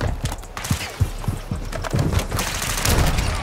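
Rapid burst of gunshots in a video game trick shot, a quick series of sharp cracks over roughly three seconds, loud and close, with game noise under it.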